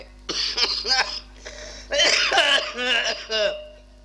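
Harsh, rough bursts of coughing and throat clearing come in close succession, loud and near, with brief pauses between fits.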